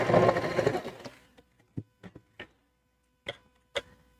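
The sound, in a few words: sewing machine stitching heavy fabric at stitch length 3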